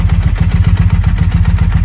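A Ducati 748 motorcycle engine idling close by, loud with the rapid, rattling clatter of its dry clutch pulsing steadily over the low engine thrum.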